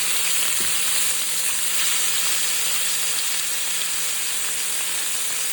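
Steak sizzling steadily in a hot pan on a stovetop, a continuous bright frying hiss with a brief low knock early on, close and fairly loud with no talk.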